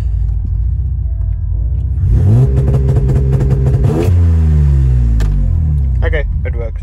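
A Mercedes W203 with a swapped M104 3.2-litre inline-six idles with a deep rumble, then is revved hard for about two seconds up to a 3,500 RPM limiter. The pitch climbs and holds before dropping back down to idle, loud and close.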